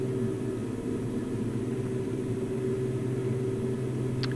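Throttled-back aircraft engines in a flight simulator game drone as a steady, loud, low hum with a tonal whine, continuous and alone without pauses.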